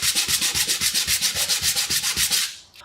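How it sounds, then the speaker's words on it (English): Rapid rhythmic rubbing of sandpaper back and forth on a 3D print, close and loud, about a dozen even strokes before stopping. "grab some sandpaper and sand it down"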